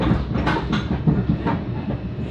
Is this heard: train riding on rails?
yes